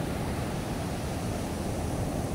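Rough surf breaks along the shore in front of a house, a dense, steady roar of waves with no pauses, loud and close, no voices.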